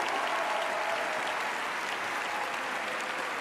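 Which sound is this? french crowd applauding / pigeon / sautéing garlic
french crowd applauding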